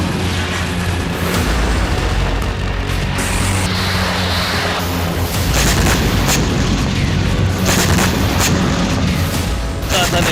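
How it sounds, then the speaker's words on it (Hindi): Rockets and missiles exploding during Gaza-Israel fighting, a dense, continuous roar of booms and bursts with repeated sharp blasts at close range, loud throughout. "गाजा की तरफ से इजराइल पर रॉकेट बरसते रहे। इजराइल गाजा को मिसाइलों से पाटता रहा।"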